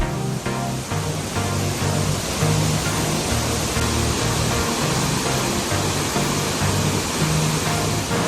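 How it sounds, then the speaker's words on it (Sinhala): The Hulu Ganga waterfall pours beneath a bridge in a steady, loud roar of rushing water, continuous and broadband from start to finish, with a faint repeating tonal pattern underneath. "පාලම යටින් තමයි මේ හුළුගඟ ඇල්ල ඔයාලට බලා ගන්න පුළුවන්."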